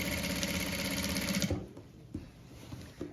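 Electric sewing machine stitching the side seams of a frock, a loud steady whirring run for about a second and a half that stops abruptly, followed by faint handling clicks and taps.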